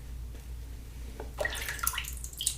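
Water trickles and drips onto a shaving brush while Le Père Lucien Traditionnel shave soap is lathered, a faint wet patter that picks up in short splashy bursts toward the end, close and quiet.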